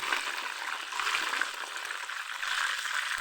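Onion, garlic and tomato fry in a pan with a soft, continuous sizzle and hiss, fairly quiet and steady, with no talking over it.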